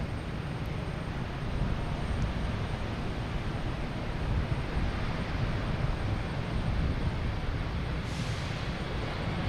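An American Airlines airliner takes off on runway 15 right at Boston Logan at night, heard as a steady, broad distant engine roar that holds constant throughout.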